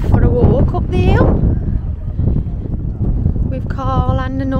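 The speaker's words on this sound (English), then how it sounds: "as you can see by my hair, it's very windy." Strong wind buffets the microphone on a hillside walk at South Stack, Anglesey, a constant loud roar and rumble under people talking.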